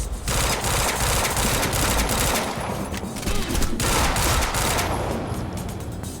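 Loud, continuous automatic gunfire from the video game Quantum Break, a dense fusillade of rapid shots that fills the whole stretch and covers everything else.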